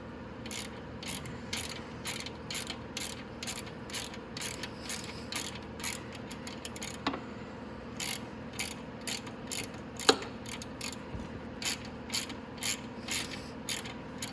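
Ratchet wrench clicking steadily in repeated bursts while bolts come off a 250cc Venom X22R Max motorcycle during a valve adjustment, close and moderately loud with no talking.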